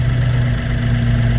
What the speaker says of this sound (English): really needed to get the tractor in here today